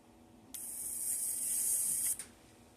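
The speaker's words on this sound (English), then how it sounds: "it's a rechargeable lighter, and you push the button here" A rechargeable electric lighter fires at the push of its button, holding a sharp, steady high hiss-buzz for about a second and a half before it cuts off abruptly in a quiet room.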